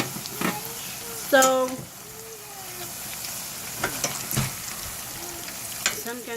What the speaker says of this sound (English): let them soak up the oil and fry. You're frying them.